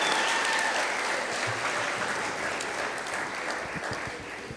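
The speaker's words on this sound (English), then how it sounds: "Let's give Omni another round of applause for that awesome job" Crowd applause at an outdoor historic marker unveiling, a broad, even roar of clapping from many people that fades slightly toward the end, with little talk beneath.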